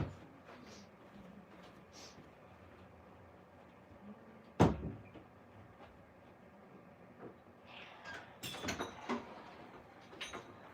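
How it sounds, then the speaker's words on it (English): A door shut indoors in a quiet room: one sharp thud near the middle, later followed by some softer rattles and knocks, with no talking. "Let me shut the door."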